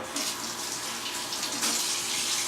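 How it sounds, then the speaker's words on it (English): Steady rush of tap water running over hands at a kitchen sink during cooking, a continuous broadband hiss that swells slightly partway through, with no voices. "So you'll see I wash my hands constantly when I cook."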